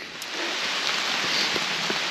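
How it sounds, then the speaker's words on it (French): Rain falls steadily through a forest, a dense, even hiss of drops on leaves and ground, with a few closer individual drop taps standing out and no voices. "ça pleut."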